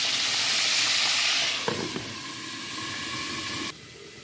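Loud, steady sizzling and hissing of chicken frying in hot oil, dropping suddenly in level partway through as if the pan is disturbed.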